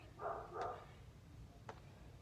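Two short dog barks in quick succession, muffled and somewhat distant, followed by a faint yip after a pause.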